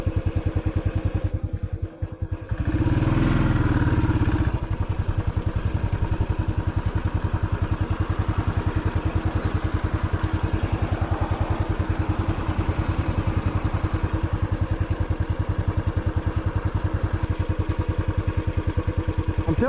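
A motorcycle engine idles steadily at a traffic light, a close, even putter throughout, with a brief louder burst early on.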